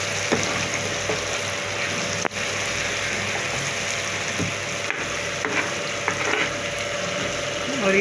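Tomatoes and red chillies sizzle in a pan as a tadka tempering for mixed dal, a steady loud frying hiss throughout, with a few light clicks of stirring.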